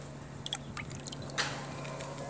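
Leftover whey water from curdled milk is poured onto potted plants, making faint, scattered drips and soft wet splashes. A quiet background hum runs underneath, and no one speaks.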